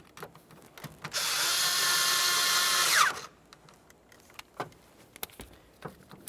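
A cordless power drill drives a mounting screw while a turn signal combination lever is replaced on a 1994-2002 Dodge Ram 2500, one close whirring burst of about two seconds, then quiet handling clicks.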